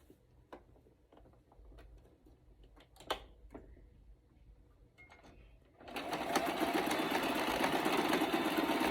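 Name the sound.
sewing machine stitching shalwar seam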